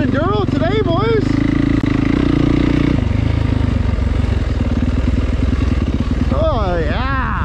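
An enduro motorcycle rides hard off-road beside mine runoff water, its engine close and loud with a chattering, rising and falling revs, while a rider talks over it.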